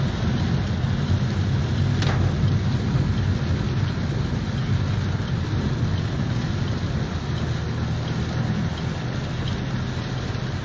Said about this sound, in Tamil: இப்படி தொடர் மழை